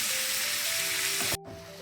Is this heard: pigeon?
no